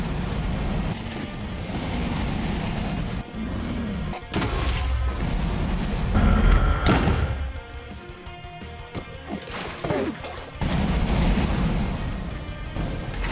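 Beds exploding in Minecraft during a dragon fight, heavy crashing blasts repeating over a constant roaring wash of noise, with sharp crackling bursts near the end.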